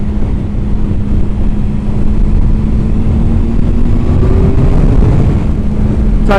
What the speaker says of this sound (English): I suppose it's the exhaust note, it's just a bit, oh, it's got a nice growl to it